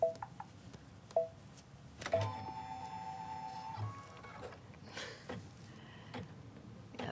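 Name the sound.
sewing machine stitching out a scallop quilt design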